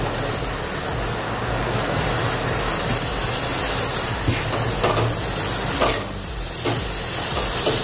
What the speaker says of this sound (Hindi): अच्छे से भुनेंगे अभी अपने मसाले को